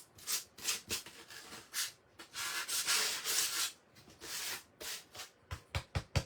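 Sandpaper rubbing against a birdhouse in short strokes, quiet and close, with brief gaps and a quicker run of scrapes at the end.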